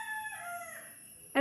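A rooster gives a drawn-out crow that falls away in pitch, followed by a short, loud cluck at the end, heard close and on its own.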